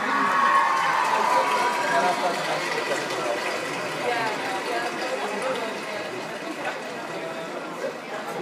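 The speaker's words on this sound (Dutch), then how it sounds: "Applaus." An audience at a live talk show applauds, a continuous, fairly loud wash of clapping and crowd noise that gradually settles, with voices mixed in.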